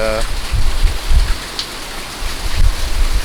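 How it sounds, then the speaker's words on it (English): Heavy rain pours down with gusting Category 4 Hurricane Laura winds buffeting the microphone, loud and close, swelling in bursts throughout. "it's going to get wind or rain blow onto the lens"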